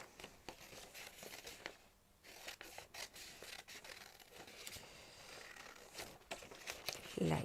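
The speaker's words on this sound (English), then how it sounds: "So I'm just going to cut this out of here." Scissors cut an aperture out of paper card. The snips are faint and close, with irregular crisp cuts and rustling paper between them.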